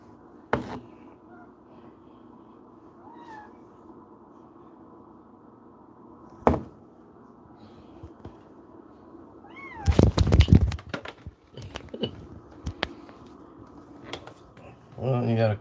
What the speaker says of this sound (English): you got a crazy cat